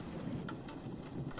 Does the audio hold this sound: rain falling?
yes